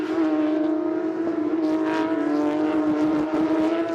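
Porsche Carrera Cup race cars howl around the track on the final lap, a loud, sustained high-revving engine drone with shifting pitch as cars pass close by.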